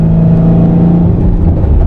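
A Cadillac CTS-V engine running E85 revs hard and loud up close, a strong low drone with a rising hum as it pulls forward, no talking.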